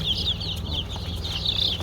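Young chickens, freshly caught on a market day, give a steady stream of high, chirpy peeps and soft clucks that run through the whole stretch, fairly close, over a low background rumble.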